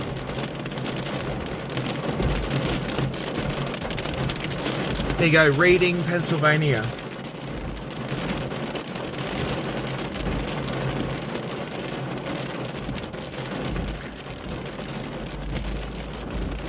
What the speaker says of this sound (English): here comes some good rain